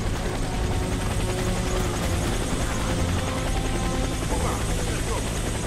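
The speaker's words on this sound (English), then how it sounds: "Helicopter is inbound." A helicopter's rotor in the video game Warface thrums loud and steady throughout, close and constant, with a faint mechanical whine layered in.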